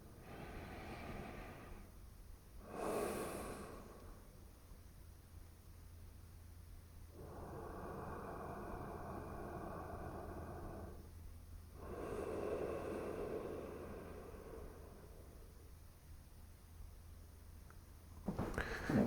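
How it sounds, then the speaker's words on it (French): Slow, deep breaths taken during a neck stretch exercise, long soft inhales and exhales with brief pauses between them, close and fairly quiet with no talking. "On inspire au centre, on expire, on étire, on étend."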